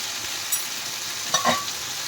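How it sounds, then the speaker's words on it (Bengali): Spices being fried and stirred in a pan for a Sundarban crab curry, a steady close sizzle throughout with a few brief scraping stirs near the end, no talking. "ভালো করে কষে নেবো মশলা দিয়ে।"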